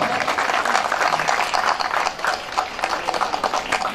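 Applause from an audience at a cultural programme, a dense steady patter of many hands clapping at once, fairly loud and continuous throughout with no pauses.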